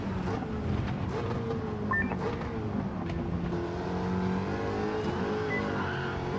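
Muscle car in a racing video game, its engine droning steadily up close with brief high squeals from the rear tires breaking loose under power, no talking.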